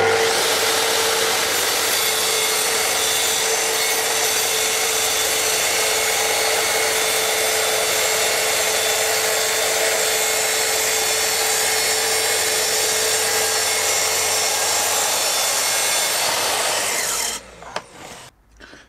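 A hand saw with a guide jig cuts through wood in steady, even rasping strokes that run continuously for about seventeen seconds, close and loud, then stop abruptly.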